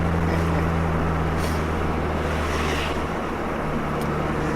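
An Audi TT with a turbo engine accelerates, giving a steady low engine drone and road roar from inside the car, constant and fairly loud with a slight shift partway through.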